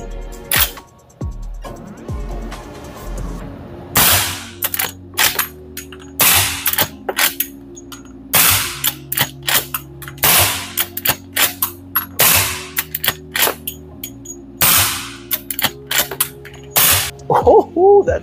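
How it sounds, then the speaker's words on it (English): A Marlin 1894 tactical lever-action rifle fitted with a suppressor and red dot fires a string of sharp, close cracks, each followed by the metallic clack of the lever cycling, in an irregular rhythm across the whole stretch. "Marlin Tactical Lever Action with the red dot on top and a shush can on the end. So let's see how she shoots."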